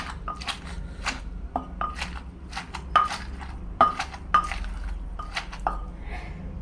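A spoon clinks and scrapes irregularly against a pot while Northern Thai bamboo shoot salad is tossed with fermented crab juice, sharp metallic taps over a quiet background.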